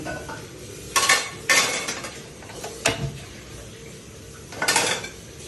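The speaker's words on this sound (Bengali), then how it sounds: "কড়াই বসিয়ে দিলাম, একটু তেল দিয়ে দিলাম" A metal wok set on a stove for frying prawns gives several sharp metallic clanks and scrapes, spaced unevenly with quiet gaps between, close and fairly loud.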